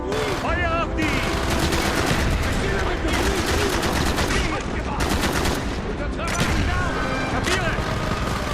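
Rapid gunfire in Call of Duty: Black Ops during a mission, with dense overlapping bursts, loud and continuous for the whole stretch, mixed with shouted voices and chaotic battle noise.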